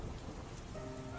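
Steady rain falls outdoors near a café, a dense, even hiss of drops on surfaces heard close and alone, with no talking.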